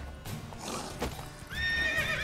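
A horse in The Witcher 3 whinnies loudly and clearly near the end, after a stretch of clip-clop hoofbeats and game ambience.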